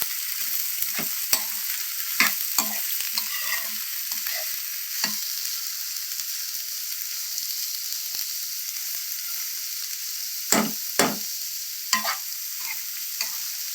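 Chillies stirred and fried in oil in a pan for a leafy amaranth fry, giving a steady close sizzle with scattered sharp scraping stirs of the spoon, several louder clatters near the end, no talk.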